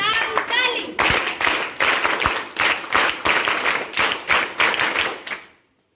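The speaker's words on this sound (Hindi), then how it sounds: "इनके लिए तो तालियां होनी चाहिए" Clapping at a national tobacco control programme event with schoolchildren in the audience; bursts of many hands clapping together in quick rhythmic waves, loud and close, ending abruptly, with some voices mixed in.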